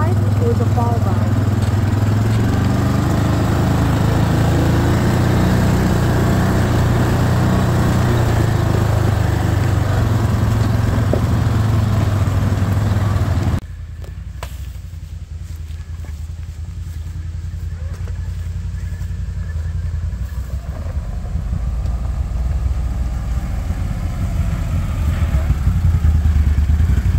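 An ATV engine drones steadily while riding forest trails in autumn, loud and close throughout, the tone dropping about halfway through and then slowly building again.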